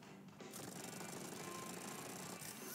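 Truck Building Simulator game audio of truck parts being unscrewed: a continuous loud, dense rattling mechanical whir with rapid ratchet-like pulses, steady throughout the short span with no talking.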